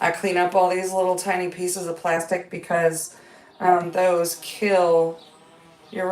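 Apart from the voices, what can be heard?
No distinct noise like a dog, phone or traffic.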